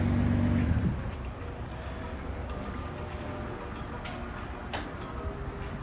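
A 2008 Nissan Altima 3.5 SE with its 3.5-liter engine idles quietly and evenly, with faint light ticking in the background and no talking.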